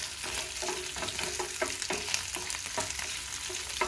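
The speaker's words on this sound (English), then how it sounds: "So we are dry frying this hadi ikue brownish, golden brown" Steady sizzling and crackling of goat meat dry frying in a hot pan, with intermittent scraping and stirring knocks, close and continuous.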